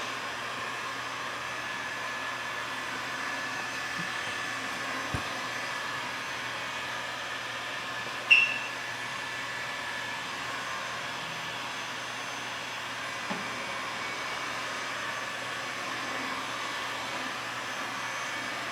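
A heat gun warms clear paint protection film on a car's hood and fenders. A continuous close blowing roar holds steady throughout, with a couple of faint taps and no speech.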